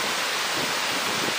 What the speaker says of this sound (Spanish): El ruido que estáis oyendo es el viento y el agua.